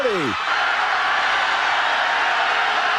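A football stadium crowd at BYU vs Utah State hums as a dense, steady roar, with a brief whistle-like sweep fading at the very start.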